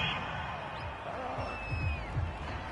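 A home crowd in the American football video game Madden 22 murmurs and cheers after a call, with a broad, steady stadium roar and a few louder bursts near the end.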